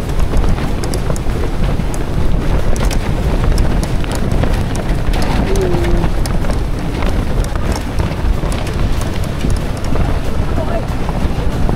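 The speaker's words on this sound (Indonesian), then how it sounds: "Kuat gila angin." Strong gusting wind at a tent campsite near an island during a storm, a loud continuous roar buffeting the microphone and drowning everything else out.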